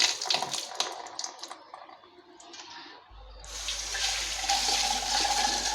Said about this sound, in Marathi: सगळं लाल पाणी याच्यामधून निघत आहे